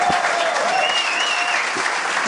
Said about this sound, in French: Mesdames et messieurs, Phil Roy, applaudissez-le